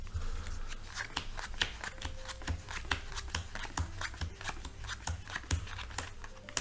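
Playing cards are dealt onto piles during an ACAAN elimination card trick, a rapid, steady run of crisp snaps and flicks close by, with no talking.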